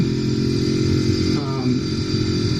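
A 2016 Ducati Monster 821 demo motorcycle runs under throttle with a steady, close engine drone and a brief rising note midway, while a rider talks over it.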